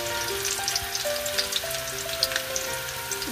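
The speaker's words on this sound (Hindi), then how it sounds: "अब ये मैंने प्याज जो स्लाइस की थी ये हम ऑयल में डाल देंगे।" Two onions, thinly sliced, fry in hot oil with a close, continuous sizzle and scattered pops, while faint steady tones run beneath.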